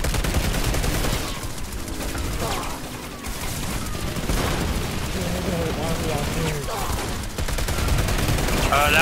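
Dense gunfire in a Planetside 2 battle, with bursts of automatic weapons and heavy shots running steadily throughout, while voices talk over the fighting.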